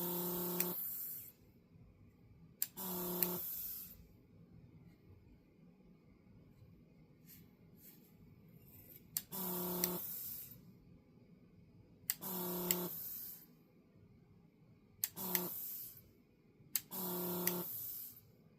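WEP 948D III desoldering station's vacuum suction pump switching on in short bursts of a second or so, six separate runs with quiet gaps between, close and fairly soft over a faint hum.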